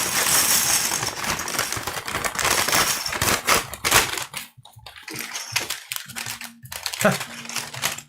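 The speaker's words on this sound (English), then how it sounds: "I got a big pile of paper bags next to me." Paper bags being crushed and crumpled close by in irregular crackling bursts, then quieter scattered rustles with a voice speaking intermittently in the background.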